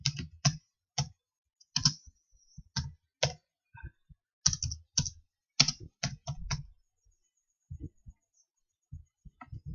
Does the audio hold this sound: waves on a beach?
no